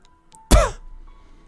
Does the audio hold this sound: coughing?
yes